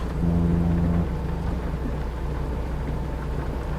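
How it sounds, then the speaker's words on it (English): Steady rain washes over a truck's cab while driving in American Truck Simulator, a constant hiss with a low rumble beneath and a brief tonal hum near the start. "And now the rain starts."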